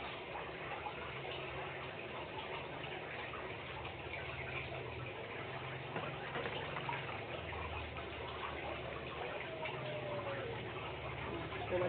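Steady stream of water pouring and splashing at close range as a potted aglaonema plant is watered, a continuous soft gush with faint trickling and no talking.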